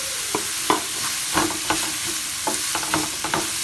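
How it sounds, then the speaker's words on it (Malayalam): Salted onions sautéing in a pan for Kerala chicken pola, under a steady loud sizzle, with a close spatula scraping and stirring in an uneven rhythm throughout; nobody speaks. "നല്ല ബ്രൗൺ കളറാവുന്നത് വരെ നന്നായിട്ടൊന്ന് വാട്ടിയെടുക്കാം"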